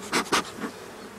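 Honeybees buzz loudly around an opened hive during a spring inspection of a populous colony, close-up bursts of droning wingbeats as individual bees pass near, with no talk.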